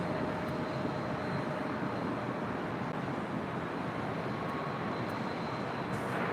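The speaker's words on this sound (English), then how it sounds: "the Emirates A380 taking off on 24 left" Emirates Airbus A380 taking off from runway 24 left at LAX, a steady, broad jet roar that holds continuously and loud throughout, distant-sounding with no pauses.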